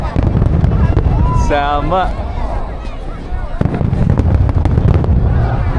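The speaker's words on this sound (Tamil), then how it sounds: "New year fire work start ஆயிடுச்சுங்க." New Year fireworks at the Harbin Ice and Snow Festival in China pop and crackle continuously, with one whistling rocket rising before a sharp bang, while a person speaks briefly nearby.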